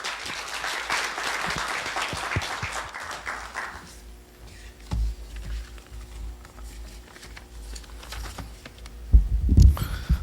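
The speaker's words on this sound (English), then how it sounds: "Please welcome him with a round of applause." Applause in a formal hall at a business school deans' summit at Korea University. A moderately loud, dense burst of clapping opens and fades after a few seconds, leaving quiet room noise, a few thumps and a louder rustle near the end.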